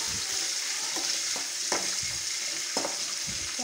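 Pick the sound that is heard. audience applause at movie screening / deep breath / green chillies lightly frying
green chillies lightly frying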